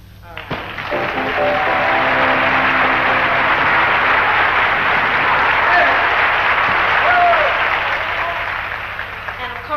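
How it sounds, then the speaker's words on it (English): Sustained audience applause and crowd noise at a 1975 live concert in Mexico, honoring the Mexican Orchestra; loud, dense clapping swells and holds for about ten seconds before gradually easing. "give a round of applause for the Mexican Orchestra"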